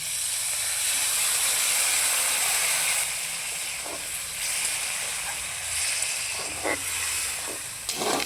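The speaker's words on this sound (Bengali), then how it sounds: "সামান্য একটু জল দিয়ে দিচ্ছি।" Potatoes frying in a pan as a splash of water goes in, a loud broad hiss of steam that slowly eases into a gentler sizzle with a few light clinks, close and without speech.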